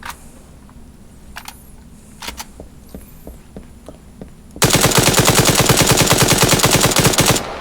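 Automatic rifle fire in a video game's virtual arsenal, with a few scattered clicks and single shots first, then a loud, sustained rapid burst of gunfire for the last three seconds.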